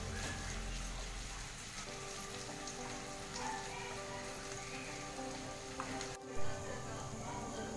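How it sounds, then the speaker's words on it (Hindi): Chopped garlic and grated ginger sizzle and crackle steadily in a hot pan while saag is cooked, a close, continuous frying hiss with no talk. "1 चम्मच के करीब कटा हुआ लहसुन, इसे थोड़ा भूज लेंगे हम अच्छे से"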